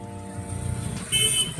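A vehicle rumbles past on a busy road, its engine a low hum, then a short, loud horn toot sounds near the end.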